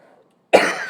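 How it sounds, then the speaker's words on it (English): One close, loud cough bursting suddenly after a quiet moment, harsh and broadband, with no talking. "I'm coughing for a few minutes"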